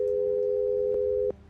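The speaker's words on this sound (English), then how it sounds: "And the line went dead" A dead phone line giving a steady, loud busy tone, one continuous beep that cuts off abruptly near the end, heard alone.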